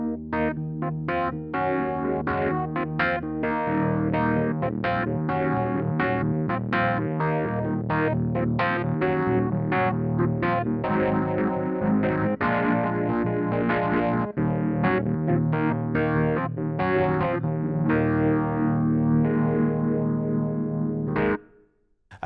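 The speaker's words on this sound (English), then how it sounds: "let's just take a listen to the electric piano sounds with the amp simulator applied as well" A Kawai ES8 digital piano's electric piano voice runs through an amp simulator, adding distortion and chorus-like shimmer as chords and melody play continuously and loudly, then stop abruptly at the end.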